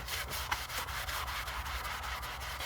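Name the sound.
scrubbing vinyl seat with melamine sponge (magic eraser)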